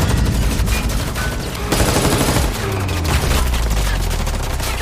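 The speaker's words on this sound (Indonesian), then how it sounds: "Adu peluru diluncurkan oleh masing-masing kelompok dan pada akhirnya hanya tersisa 2 selongsong pihak Lisbon." Sustained gunfire from a shootout in the series Money Heist season 5, loud, dense bursts of rapid automatic shots and heavy booms filling the whole stretch, with a few faint voices mixed in.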